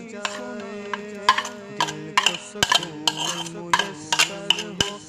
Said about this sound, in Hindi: अब हम इसको अच्छी तरह से मिक्स कर लेंगे।